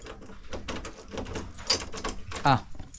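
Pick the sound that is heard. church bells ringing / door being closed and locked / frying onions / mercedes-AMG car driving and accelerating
door being closed and locked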